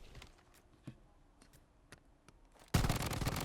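Gunfire in the mobile shooter Blood Strike, a string of faint scattered shots and clicks at bot targets, then a burst of loud dense firing at the end.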